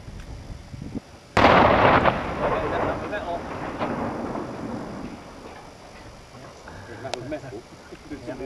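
Explosive charge blasting through plywood outdoors, one sudden loud boom followed by a long, rumbling decay with debris noise, and faint talk afterward.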